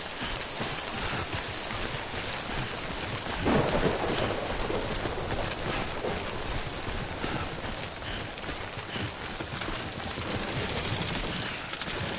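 Steady rain and rolling thunder from the Death Stranding video game, dense broadband downpour throughout with a louder thunder swell partway through, no talking.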